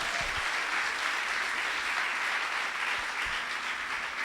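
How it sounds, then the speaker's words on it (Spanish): Church congregation at a Sunday service claps loudly in a sustained, even roar of applause from many people, with no voices breaking through. "Dale un aplauso fuerte al Señor en esta hora."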